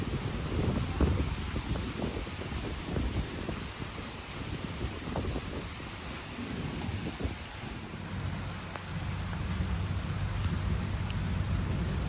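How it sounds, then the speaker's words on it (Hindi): Heavy nonstop rain pours down on a village, a loud dense roar with pattering drops and occasional low rumbles like distant thunder, continuing without a break. "इन्हीं बारिशों से अब डर लग रहा था और अब ये नॉन स्टॉप हो रही हैं।"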